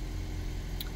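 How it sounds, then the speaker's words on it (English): Smooth, steady engine hum of an idling 2009 Toyota Prius 1.5 hybrid with a misfire fault, a close, even low drone with one brief faint click. "The engine is running smooth."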